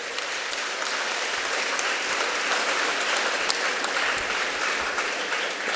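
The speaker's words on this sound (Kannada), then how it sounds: "ಎಲ್ಲ ಮಹನೀಯರು ಚಪ್ಪಾಳೆಯೊಂದಿಗೆ ಮಕ್ಕಳನ್ನು ಪ್ರೋತ್ಸಾಹಿಸಬೇಕು." An audience at a prize-giving ceremony for students applauds steadily throughout, a dense, even wash of many hands clapping at a moderate distance with no pauses.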